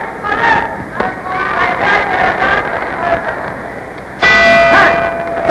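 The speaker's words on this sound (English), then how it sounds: "There's the bell ending round 2" Boxing ring bell ending round 2 of an Emile Griffith title fight, clanging several times with a ringing tone over loud arena crowd noise and a commentator's voice.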